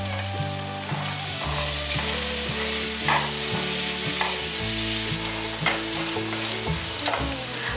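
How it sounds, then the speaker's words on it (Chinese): Potatoes fry loudly in a little hot oil in a wok, a close, dense sizzle with rhythmic spatula scrapes and stirring knocks running throughout. "锅内放入少许油，油热了之后放入马铃薯"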